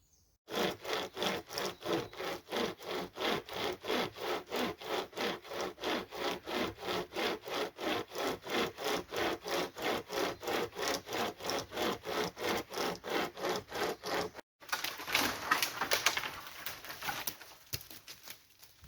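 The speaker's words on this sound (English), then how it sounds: "one of them hand chainsaws, and we took out that old dead standing silver birch" A hand chainsaw cuts through a dead standing silver birch at a bushcraft wild camp, with steady, rapid rhythmic rasping strokes up close for about fourteen seconds, then a brief pause and rougher, irregular cutting as the wood gives.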